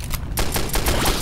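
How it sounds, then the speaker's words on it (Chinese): Rapid gunfire rattles out in Left 4 Dead played in VR, a loud, close burst of repeated shots fired in quick succession amid a zombie fight in a candy factory. "你这个枪声脆不脆？"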